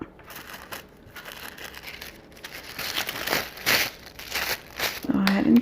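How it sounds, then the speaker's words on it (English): Tissue paper crinkles and rustles while being stuffed into a Mickey Mouse-style centerpiece, the crackling rising and thickening toward the end with soft movement noise around it. "You guys hear the noise of the tissue paper?"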